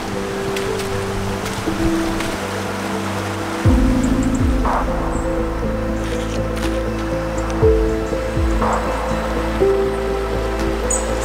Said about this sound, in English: This is the water flowing out of the blue hole, and it is unbelievably crystal clear.